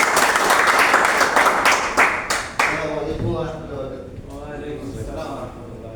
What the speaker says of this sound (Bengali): করতালির মাঝে।